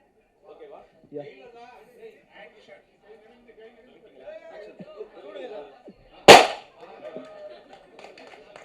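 A single sharp gunshot fired as a welcome at a Tamil film launch event cracks out loud and close, standing out against steady talk and crowd chatter before and after.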